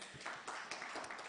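An audience at a climate and sustainability conference in Kenya applauds a speaker, a soft, steady patter of many hands clapping, somewhat distant and uninterrupted.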